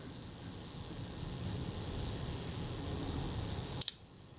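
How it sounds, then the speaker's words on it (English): After a stretch of quiet mechanical hiss, a sharp double click of a faulty camera's shutter snaps near the end, brief and close. "The shutter fired."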